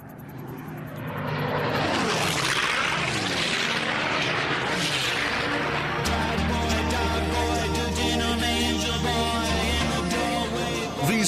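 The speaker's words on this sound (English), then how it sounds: "These planes are doing 500 miles an hour, 50 feet from the deck." Loud, sustained roar of fast racing planes sweeping past at close range, about 500 mph and 50 feet up, rising and shifting in pitch as they race overhead with no talking.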